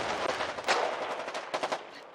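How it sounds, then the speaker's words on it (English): Artillery fire in the Foxhole war game amid a tank battle, a dense rumbling barrage of overlapping blasts with a few sharper cracks standing out, moderately loud and continuous. "it sounds like artillery"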